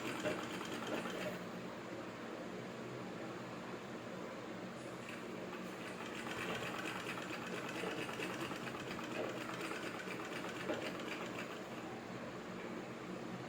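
A sewing machine stitching a frock bodice, running in a continuous fast whirring hum throughout, fairly quiet and close, with no talking.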